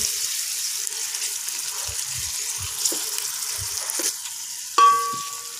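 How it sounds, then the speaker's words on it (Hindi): Onion, ginger and garlic fry for dal with a soft, close sizzle, punctuated by a few low stirring knocks, then a brief clatter near the end. "एक से 2 मिनट फ्राई करने के बाद"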